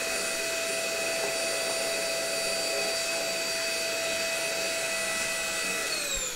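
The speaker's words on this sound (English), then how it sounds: "So vacuum cleaner at the ready" A vacuum cleaner runs steadily and loudly throughout, sucking up sawdust from a woodworking build of a dance pad replica, with a constant whine and no speech.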